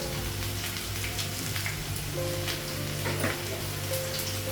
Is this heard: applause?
no